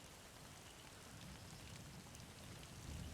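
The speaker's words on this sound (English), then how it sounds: "Sound of rainfall should help to mask your footsteps." Steady rainfall in a video game, a constant soft hiss of drops falling on surfaces, fairly quiet and even, with no voices.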